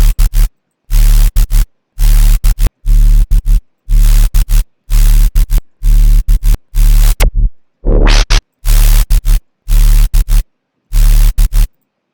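Loud bursts of hissing static from a synth white-noise layer in a drum and bass track, with a low hum pulse in a choppy, gated rhythm, cutting cleanly to silence between each burst.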